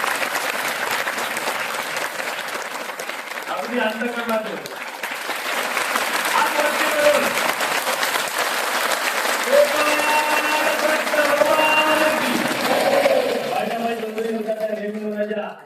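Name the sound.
audience applause welcoming a guest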